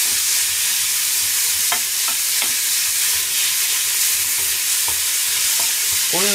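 Onions sizzle and fry in a hot pan in a steady, loud hiss, with occasional scrapes and clicks from stirring, close up and with no talk.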